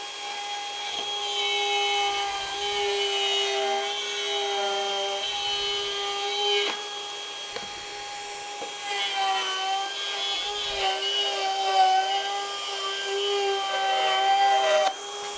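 A cordless Metabo HPT 2-1/4 HP router cuts freehand through 1/2 inch plywood with a steady high whine, strained slightly as the bit bites into the wood, running close and continuous for about fifteen seconds.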